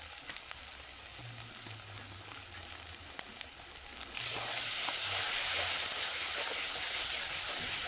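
Snakehead fish frying in a pan with turmeric and red chili powder, stirred: a steady close sizzle that swells sharply louder halfway through, with faint background talk early on.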